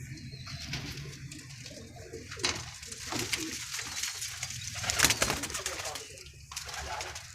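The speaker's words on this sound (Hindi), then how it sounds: "ये देखें फिरोजपुरिया कबूतर पूरी हालत में" Ferozpuria pigeons coo repeatedly at close range, soft throaty calls recurring in a loose rhythm with some rustling and background noise, and someone speaks at times over them.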